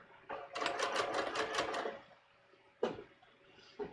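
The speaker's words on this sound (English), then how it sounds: "I'm gonna sew right up to where I have to turn the corner here." Sewing machine stitching fabric for a bias-cut top, a close, steady whirring run of stitches for about one and a half seconds, then a pause broken by a couple of sharp clicks.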